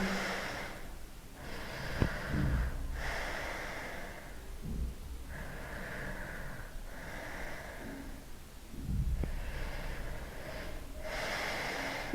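Slow, deep breaths during a yoga class, each long inhale and exhale clearly audible and close, repeating in an even rhythm with airy, rushing texture and a few soft nasal snorts between.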